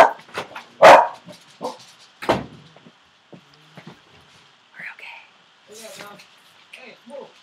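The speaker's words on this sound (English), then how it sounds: "Ignore the barking dog." A dog barks indoors in a few sharp, separate bursts that stand out over quieter household sounds and bits of talk.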